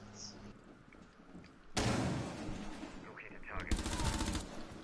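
Automatic gunfire in Rainbow Six Siege breaks out as a sudden loud burst, then resumes in a rapid, evenly spaced volley near the end, with voices talking over the shooting.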